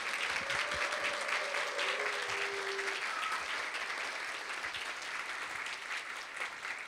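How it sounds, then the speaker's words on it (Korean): Steady, full applause fills the room from a seated audience at a gathering of successful candidates from a Korean loss adjuster exam, continuing evenly at moderate volume throughout. "힘찬 박수 부탁드리겠습니다."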